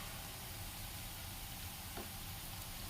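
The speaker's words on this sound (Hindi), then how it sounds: "तो अब हम गैस को थोड़ा सा मीडियम कर देते हैं और अच्छे से फ्राई कर लेते हैं।" Jalebi batter fries in hot oil over a medium flame, a steady, even sizzling hiss, close and fairly quiet, with no voices.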